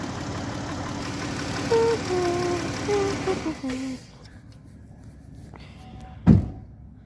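Engine of a 2015 Dodge Grand Caravan with broken rocker arms, idling steadily with a faint ticking rumble under voices for about four seconds, then shutting off into quiet, followed by a single loud thump.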